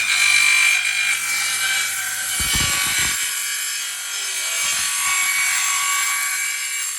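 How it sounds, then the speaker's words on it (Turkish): Continuous rasping strokes of a hand saw cutting through the locking edge of a laminate parquet board, close and loud, with a steady back-and-forth rhythm and brief pauses. "buradan bakın kilidi kesiyorum"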